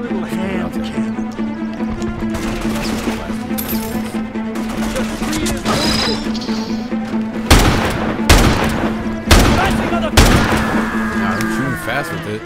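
Four heavy, booming hand cannon gunshots in Mercenaries 2: World in Flames ring out at uneven intervals over a droning, busy game soundscape with a low hum.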